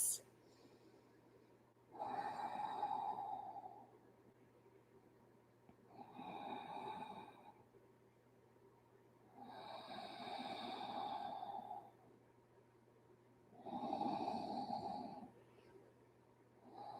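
Slow, deep breaths during a vinyasa yoga forward fold come close and soft, four long, airy inhale-exhale swells spaced a few seconds apart in an otherwise quiet room.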